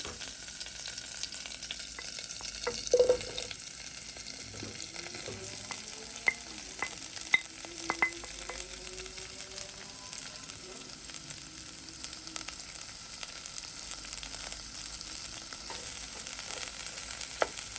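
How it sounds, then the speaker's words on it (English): Vegetables sauté in a pan with a steady soft sizzle, while utensils scrape and clink against it at intervals; no one talks. "we are going to let this saute just for a few minutes"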